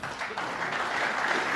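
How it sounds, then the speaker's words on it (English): Snooker crowd applauding at the World Snooker Championship final, a steady, dense patter of many hands clapping at an even level throughout, with no voices over it. "Well, applause"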